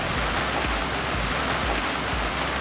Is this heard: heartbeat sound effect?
no